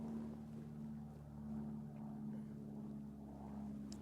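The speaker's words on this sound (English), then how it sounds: "It's an airplane, you guys." An airplane passes overhead as a faint, steady, low engine drone that swells slightly and holds throughout. No voices are heard.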